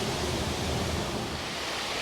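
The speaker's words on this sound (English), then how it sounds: "there's the waterfall in all its glory" A jungle waterfall on a trail at Khlong Phlu, Ko Chang, Thailand, a loud, dense, constant roar of rushing water close by.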